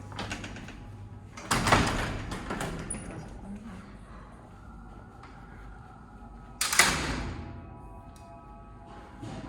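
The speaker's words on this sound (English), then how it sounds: "pull open the doors and push open the steel door." Old elevator doors and a heavy steel door in a hotel in Alexandria, Egypt, pulled and pushed open: two loud metallic scraping clangs a few seconds apart, with quieter clunks and faint rattling in between.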